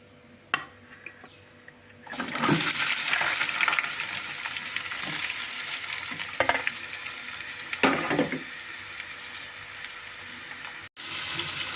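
Chopped onions and green chillies drop into hot oil in a pan, bursting into loud, steady sizzling frying with a few sharp stirring scrapes; quiet at first, then sustained sizzle after a clatter, outdoors in a village kitchen.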